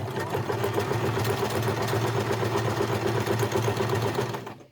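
A sewing machine runs a few back stitches in a fast, even mechanical whir with rapid ticking needle strokes, steady and close, then stopping abruptly at the end.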